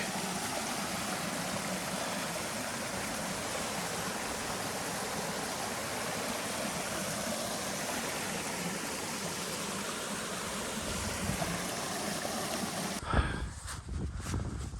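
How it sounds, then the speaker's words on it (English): A small, pretty creek at a trail crossing in Cheaha State Park rushes steadily and fairly loudly close by, a constant broadband wash that ends in a few sharp handling bumps near the close. "Little creek crossing."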